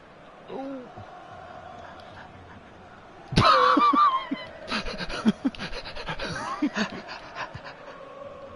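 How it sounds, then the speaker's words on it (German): Dog panting up close, a quick rhythmic huffing that continues steadily, with a person speaking softly over it and a short burst of louder noise partway through. "Braves Hundi."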